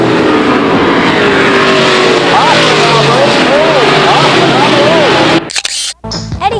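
A pack of seven or eight race cars roars around Lake Geneva Raceway in 1994, loud engines droning and rising and falling in pitch as they pass. The sound cuts out abruptly near the end.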